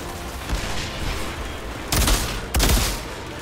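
Loud gunfire from a weapon in the video game Outriders, with a sustained burst of shots followed by two heavier, sharper blasts near the end, all close and dominant.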